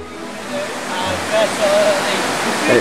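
Loud, continuous roar of rushing river water, a thick wash of noise nearby, with faint voices or bird calls briefly rising above it.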